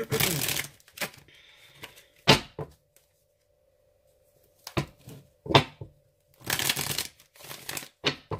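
Tarot cards are shuffled and handled in short bursts of riffling and slapping, close and crisp, separated by near-silent pauses.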